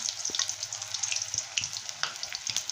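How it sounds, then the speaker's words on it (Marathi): Spring potato snacks deep-fry in oil nearby, a continuous bright sizzle full of rapid pops and crackles, fairly quiet and with no voices. "आपण हे तळून घेऊया आता हे तेल टाकलेलं आहे आपण हे त्यामध्ये तळून घेऊया"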